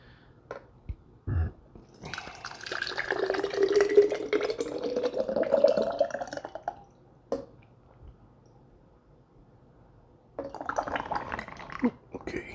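Tomato sauce pours steadily from a measuring cup into a glass jar for a few seconds with a soft gurgle, followed by quiet handling and a brief clatter.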